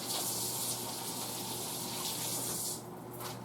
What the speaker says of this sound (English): Now I go wash hands.